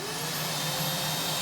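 An Aerus Lux Electrolux Guardian 90th Anniversary upright vacuum cleaner motor runs steadily with a high-pitched whine and a broad airy roar, with no breaks over the short stretch.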